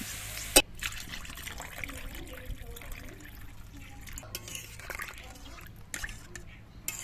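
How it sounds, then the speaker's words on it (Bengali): Water is poured into a pan of kohlrabi and chillies cooking in a home kitchen, giving a soft, fairly faint trickling and splashing that starts after a sharp clack. "এবার জল দিয়ে দেবো।"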